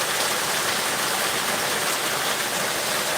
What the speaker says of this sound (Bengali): প্রচণ্ড বৃষ্টি হচ্ছে পাহাড়পুরের দিকে